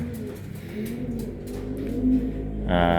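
Racing pigeon cooing close by in a loft, a soft low repeated coo under steady background noise, with a louder burst near the end.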